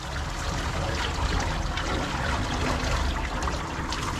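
Water runs in a steady, close rush and trickle, rinsing during undercoat removal, with no talking.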